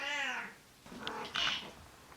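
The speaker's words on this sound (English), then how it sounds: "my little dwarf kitty, she is so loud" A small dwarf cat lets out a long, loud, drawn-out meow in a kitchen, then after a brief pause gives a couple of shorter, higher cries.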